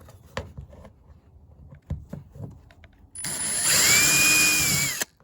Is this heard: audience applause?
no